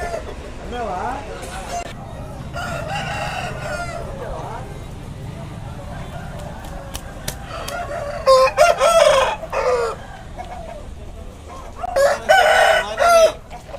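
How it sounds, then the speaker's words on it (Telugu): Roosters crow and hens cluck at a busy country chicken market, several loud nearby crows rising over a steady background of birds and people talking. "అదే కోడి"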